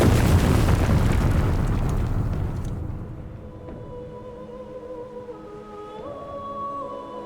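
A heavy artillery explosion in a war film booms loudly and rumbles away over several seconds, fading into a low hum with faint tonal sounds.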